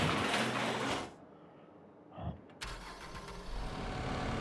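On a farm, a pickup truck engine cranks and catches, then settles into a steady idle that rumbles low and close. A short mechanical clunk comes just before it fires, and noise from a moving vehicle is heard before that.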